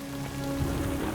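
Rain falls in a steady, dense patter with a constant hiss, fairly close and unbroken.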